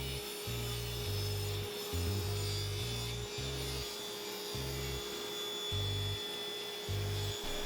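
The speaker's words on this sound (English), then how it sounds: "push this straight through the table saw just like that" A board pushed through a table saw to cut a taper: a series of rhythmic low grinding, rubbing bursts from the blade as the wood feeds through, over a constant motor hum.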